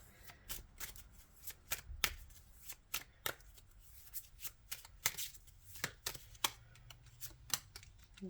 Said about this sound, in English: Just gonna shuffle out all of our cards here.